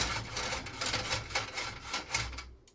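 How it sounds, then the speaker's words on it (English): Metal scraping against a metal saucepan while berries cook on a stovetop, a run of rough rhythmic rasping strokes, fairly close and moderately loud, fading out at the end. "Nobody wants to hear metal on metal unless you're totally metal."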